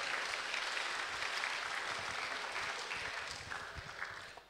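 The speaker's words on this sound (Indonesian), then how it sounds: "Kita berikan tepuk tangan yang meriah kepada para pemenang." Applause from an audience honouring the winners of an essay competition at a lecture event, steady broadband clapping that holds for several seconds before tapering off at the end.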